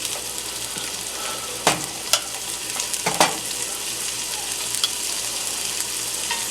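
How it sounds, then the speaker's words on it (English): Shredded beef searing in a hot pan over a raised flame, a steady sizzling hiss throughout with a few sharp clacks of stirring or tossing, moderately close and without talk. "I want it to sear, so I turn the fire up a little bit."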